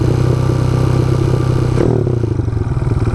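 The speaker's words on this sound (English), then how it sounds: "My idle seems very high." A motorcycle engine fitted with a 34mm carburetor idles high and steady, a loud close-up drone that shifts and settles partway through, with no talking.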